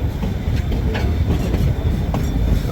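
A moving train rolls along the Georgetown–Silver Plume railway loop, a mountain line with small locomotives. Its steady, loud rumble fills the space, with faint clickety-clack wheel beats and light rattles.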